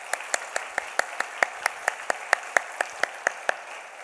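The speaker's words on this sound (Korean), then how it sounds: "박수로 환영하실까요?" A church congregation claps to welcome three new families during a Sunday service: a steady run of sharp, evenly spaced claps at moderate loudness, with no talking over it.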